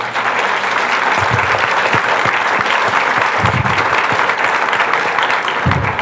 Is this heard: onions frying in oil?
no